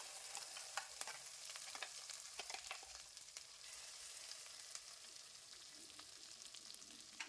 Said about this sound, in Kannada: ಇದನ್ನು 1 ನಿಮಿಷ ಫ್ರೈ ಮಾಡ್ಕೊಳ್ಳೋಣ.